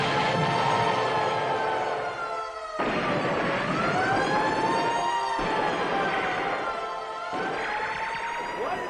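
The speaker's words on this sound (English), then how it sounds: "Air raid sirens." Air raid sirens wail in a rising and falling tune, several loud sustained tones sweeping up and down and restarting in waves, with no talking over them.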